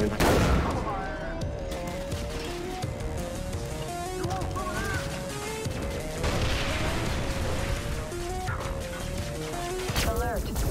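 Gunfire and crashing impacts from the video game Far Cry 3: Blood Dragon, bursts of shots scattered through a busy mix of synth music and game sounds, with voices speaking over the action.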